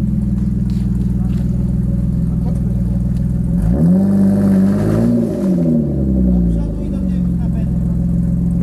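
A Mercedes G-Class stuck deep in mud, its engine idling then revving hard for a couple of seconds before settling back, loud and close, with people talking over it.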